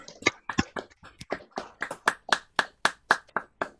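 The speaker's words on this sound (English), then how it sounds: "give a really big round of applause for everybody" A few people at an online poetry evening unmute and clap. The result is sparse, uneven claps and taps from separate microphones, each one distinct, with no crowd wash behind them.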